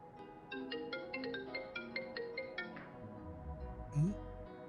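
A phone ringtone plays a repeated electronic melody of bright tonal notes, quiet and indoors, fading out before a brief louder bump near the end.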